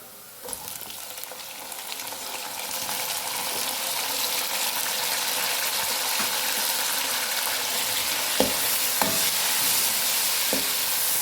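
Chopped tomatoes and green chillies frying in a pan with cumin and garlic, giving a loud, steady sizzle that builds and holds throughout, with a few sharp clicks of a spoon stirring against the pan.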